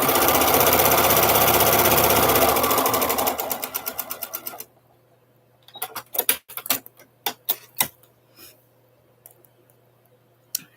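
A sewing machine runs fast and loud while stitching quilt blocks with a quarter-inch seam, slows to a few separate stitches and stops, followed by scattered sharp clicks and taps.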